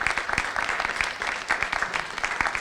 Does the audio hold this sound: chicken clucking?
no